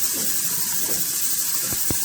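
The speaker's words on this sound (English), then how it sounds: "Then I'm going to turn some water on and rinse it." Steady hiss of tap water running into a strainer of salted mixed vegetables for chow chow relish, rinsing them in a kitchen sink, with a couple of faint knocks near the end.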